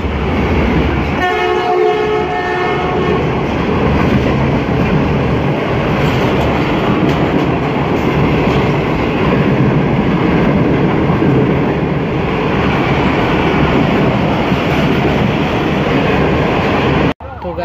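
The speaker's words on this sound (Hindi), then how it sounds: "आपकी फेवरेट ट्रेन सेट CU30 के साथ आ रही है जी" A passenger train pulled by a locomotive rolls into Drig Road railway station, a loud, sustained rumble and rail noise filling the scene from start to finish, with a horn-like tonal blast near the beginning.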